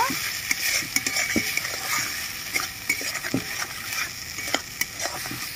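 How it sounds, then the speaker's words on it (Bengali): A spoon scrapes and knocks against a pan again and again while spices cook down with a cashew and melon seed paste. A constant frying hiss sits underneath, the stirring is loud and close, and no one speaks. "সব মশলা একসাথে ভালো করে কষিয়ে নেব।"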